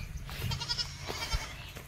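Goats and sheep bleating on a hillside near the Ratnagiri temple site, a few faint calls against steady outdoor background noise.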